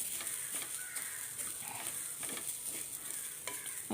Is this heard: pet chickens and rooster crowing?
no